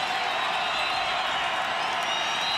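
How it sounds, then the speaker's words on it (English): A college football stadium crowd in a Montana State versus Sacramento State game, on its feet and cheering in a dense, steady roar that fills the whole stretch without letup. "Crowd on their feet."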